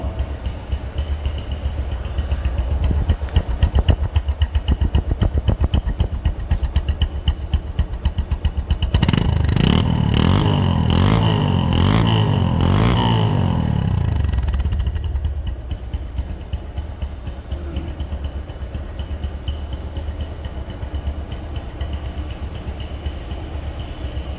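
A Bajaj Discover 135 motorcycle engine idles steadily and close by, with a louder, rougher rev-like surge in the middle before it settles back to an even idle.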